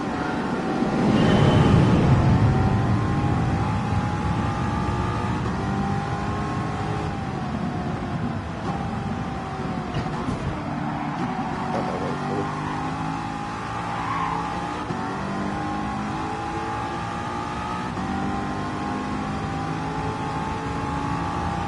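A race car in Gran Turismo 7 on a simple six-lap track with upgraded tyres: an engine revs hard and steadily throughout, with a brief tyre squeal near the start and shifting pitch as it climbs through gears.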